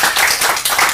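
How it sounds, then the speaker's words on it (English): Audience applause at a city meeting, a short burst of dense, steady clapping from a roomful of people, loud and close with no voices over it. "she deserves a big round of applause"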